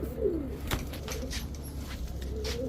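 A Giribaj high-flyer pigeon, a male, coos softly and close by in a low repeated murmur, with steady background noise and no speech.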